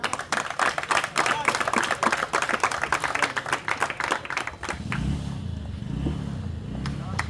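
An audience at a cricket tournament prize ceremony claps in a burst of applause for several seconds, then the clapping fades into crowd murmur and talk.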